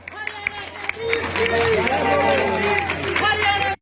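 A rally crowd at a Congress party event claps and cheers loudly to welcome Randeep Singh Surjewala, a sustained wash of applause and crowd noise with a voice carrying over it.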